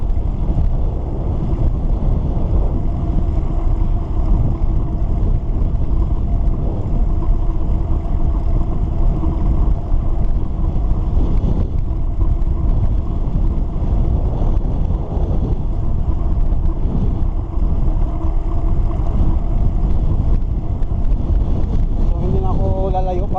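Strong wind buffets the microphone during a bicycle ride through a small town, a constant loud roar with no break.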